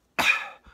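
A beatboxer makes a cough snare, a single sharp, breathy cough burst with a whispered hiss that fades quickly, then a short soft afterbreath, all close and loud; the voice imitates a snare drum.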